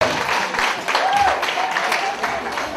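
Applause from an indoor audience at a women's rights parade, steady dense clapping with crowd noise and music underneath, a presenter's voice talking over it.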